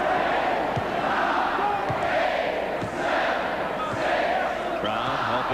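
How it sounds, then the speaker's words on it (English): Dense basketball arena crowd at a Duke Blue Devils versus NC State Wolfpack game shouting along as the clock runs down before halftime, a continuous loud roar with rhythmic surges. "Crowd helping count down the time."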